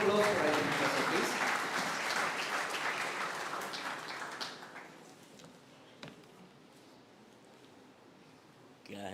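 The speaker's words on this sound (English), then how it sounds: "Can we have a round of applause for IP Mishra sir, please?" Audience applause at a technical event on wireless communication, AI and innovation, loud and sustained for about four seconds and then thinning to scattered claps with some rustling.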